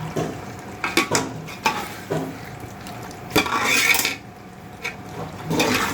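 Curd being beaten in a bowl for chicken dum biryani: a series of close scraping and clinking stirring strokes, irregular and fairly sharp, with quieter gaps between them and no voice.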